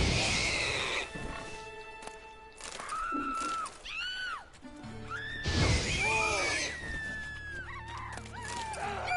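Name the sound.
pig being killed in the video game The Witcher 3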